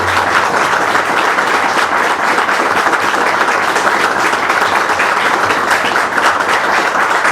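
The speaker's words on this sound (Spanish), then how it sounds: "pidiéndoles un fuerte aplauso para don Genaro Bravo" A seated audience at a religious talk applauds Don Genaro Bravo Rabanales, with dense, loud, sustained clapping that continues evenly for several seconds.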